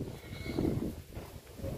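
Cattle in a pen in South Bandung being fed grass and straw, giving a low, continuous murmur of animal sounds and shuffling close by, with no clear moo.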